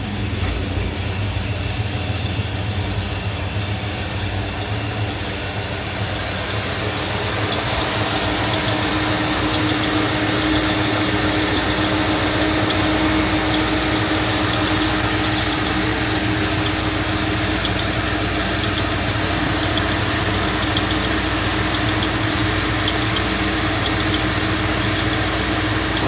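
A 1965 Ford Mustang Fastback V8 idling steadily right after an ice-cold start, a continuous rumbling engine drone with slight vibration, close and loud throughout with no talking.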